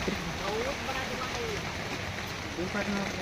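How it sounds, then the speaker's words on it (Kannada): Steady heavy rain hisses on surfaces nearby, a constant dense patter, with voices speaking briefly over it. "ಮಳೆ ಎಷ್ಟು ಜೋರ"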